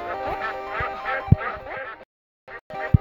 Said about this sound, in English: Stupid bloody ducks.